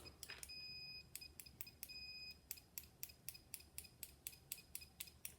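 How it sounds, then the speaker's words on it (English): An AEMC C.A. 5205 digital multimeter gives two sustained, fairly faint high continuity beeps during testing, followed by a quick series of light, rhythmic clicks. "But the beeper is not as loud as I would like it to be"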